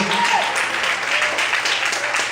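Congregation applauding during a church service, a steady, moderately loud wave of many hands clapping together that holds evenly throughout.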